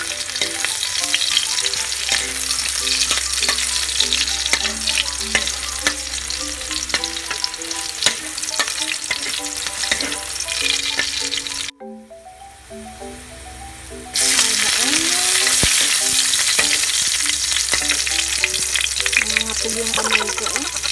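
Garlic sizzles loudly in a little hot oil, a dense crackling fry with stirring clatter, briefly dropping away before the sizzle returns strong and steady.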